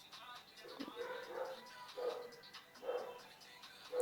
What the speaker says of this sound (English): people's dogs will not shut up. I tried to wait for them to stop barking